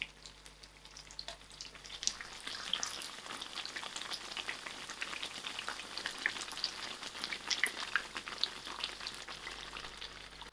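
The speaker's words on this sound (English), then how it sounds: "I'm going to keep flipping my brinjal over till the brinjal is thoroughly cooked in the inside" Battered brinjal slices frying in hot oil in a pan, a steady dense sizzle with crackling pops throughout, close and moderately loud, no voices.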